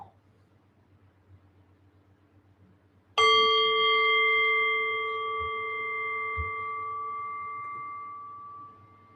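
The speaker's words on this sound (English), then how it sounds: "so I will ring the bell." A meditation bell in Thailand is struck once after a few quiet seconds, its clear, bright tone ringing out loudly and then fading slowly over several seconds.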